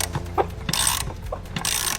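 A ratchet wrench tightens hose fittings in a fabrication shop, giving a rapid clicking pawl sound in two short bursts, close and loud, with metallic handling noise around them.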